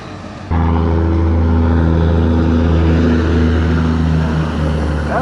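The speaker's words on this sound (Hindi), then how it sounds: "ऐसे ट्रक की आवाज़ सुन लो ना तो डोपामिन रिलीज होता है मेरा" A truck engine roars in abruptly and holds a loud, deep, steady drone with strong rumbling harmonics as it passes close by, easing only slightly toward the end.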